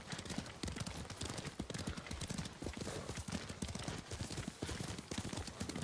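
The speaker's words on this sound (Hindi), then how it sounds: "ऑटो मोड में चलता है घोड़ा." Horse hooves galloping in the Ghost of Tsushima video game, a fast steady clip-clop rhythm running continuously, close and fairly loud, with no voices over it.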